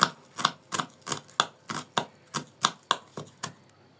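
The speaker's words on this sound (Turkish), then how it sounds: "maydanozlarımız onları da küçük küçük doğruyoruz" A knife chops fresh parsley finely on a board for a yogurt meze, with about a dozen crisp, evenly spaced cuts close and clear, no talking.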